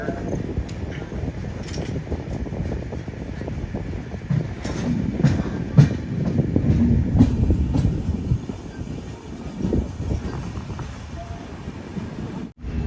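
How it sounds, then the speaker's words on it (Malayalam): A sleeper-class express train rolls into Shoranur Junction railway station, wheels rumbling and clacking over rail joints with occasional squeals, heard from inside the carriage with a steady low drone. "സമയം 7:53 ഷൊർണൂർ ജംഗ്ഷൻ റെയിൽവേ സ്റ്റേഷനിലേക്ക് ഇതാ ട്രെയിൻ എത്തിക്കൊണ്ടിരിക്കുകയാണ്"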